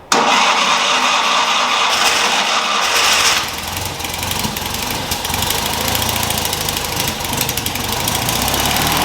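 A classic Fiat 500F cranks with the choke on, catches after a few seconds and settles into a loud, uneven, rattling idle, close up and alone.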